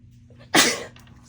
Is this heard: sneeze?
yes